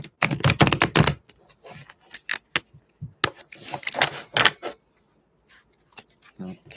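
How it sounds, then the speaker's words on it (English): A tarot card deck shuffled by hand, giving a quick burst of crisp riffling clicks and flutters, then scattered card taps and slaps in uneven bursts with quiet gaps between them, close and fairly loud. "I'm going to shuffle the deck real quick here."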